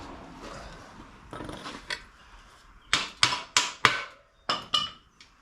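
A brass hammer strikes a punch rod to drive out the axle of a Harley Sportster with a 21-inch wheel, a series of sharp metallic taps, a few isolated hits and then a quick run of five or six close, loud blows.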